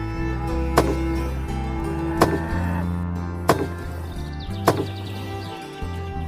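Wood being chopped in a forest with an axe, four loud, sharp chops at an unhurried, uneven rhythm over a low background hum, with faint birdsong and no talk.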